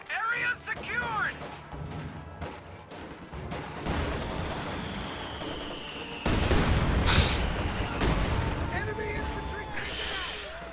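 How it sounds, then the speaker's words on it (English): Heavy mortar barrages in a World War II real-time strategy match land as a string of booming blasts and rumbling impacts, loud and sustained, with a whistling tone running over the din. "There goes another squad of heavy mortar fire."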